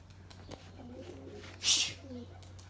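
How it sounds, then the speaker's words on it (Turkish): Pigeons give soft, faint coos at a distance, broken by one brief rushing flutter of wings as a bird takes off. "Burada bir sürü kuş var ya"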